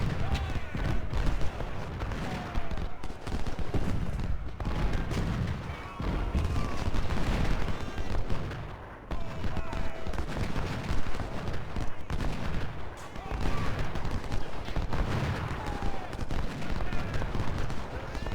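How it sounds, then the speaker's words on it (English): Civil War cannon batteries in Ultimate General thunder over a continuous battlefield din of musketry and booming artillery, a steady loud barrage with people talking throughout. "now I just tell these guns to shoot that gun"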